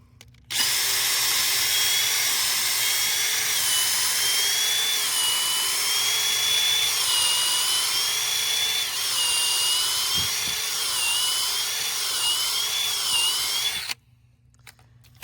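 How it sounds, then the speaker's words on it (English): A power drill with a small bit whines continuously at high pitch for about thirteen seconds while boring deep into a maple tree, its tone wavering slightly, then stops abruptly. "we're using a smaller drill bit this time, and we're going deeper"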